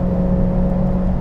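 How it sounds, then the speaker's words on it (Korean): A 2023 Porsche 911 Carrera GTS Cabriolet on a test course, its exhaust droning steadily at high RPM with a sustained, even engine tone and no break throughout the short stretch. "후반 RPM에서 이 배기 사운드가 매우 강렬하게 다가옵니다"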